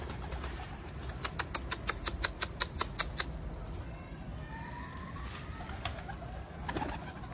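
Pigeons come in to land outdoors with a quick run of sharp, evenly spaced claps, then soft coos and faint calls over steady background noise.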